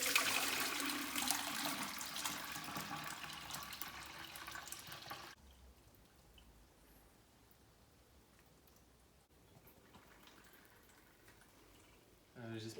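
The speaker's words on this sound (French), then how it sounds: "on va tout balancer en essayant de ne pas trop éclabousser" A thick rhubarb and redcurrant fruit purée pours and splashes steadily into a bucket for about five seconds, then quiets to a faint background hiss before a brief rustle at the end.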